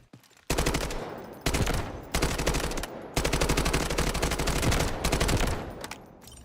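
An AK-12 assault rifle in the Delta Force video game fires on a firing range in several long, loud automatic bursts, each a rapid, even rattle of shots separated by short pauses.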